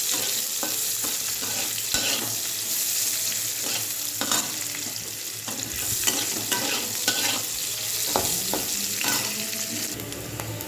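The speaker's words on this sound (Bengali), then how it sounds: "হালকা করে পেঁয়াজটা ভেজে একটি" Onion sizzles in hot mustard oil with bay leaf, mustard seeds and dried chilli while a utensil repeatedly scrapes and stirs the pan, a continuous close frying hiss with no talking.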